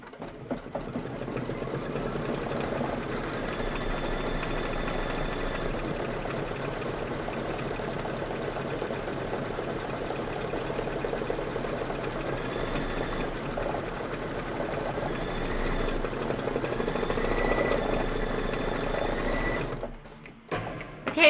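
A sewing machine stitches the back of a quilt block in one continuous mechanical whir, steady and fairly loud for about twenty seconds, then stops abruptly near the end.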